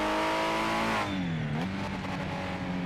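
1970s Ford Capri race car engine in Project Motor Racing, revving high, dropping as it shifts, then climbing again, a loud, close engine note heard alone.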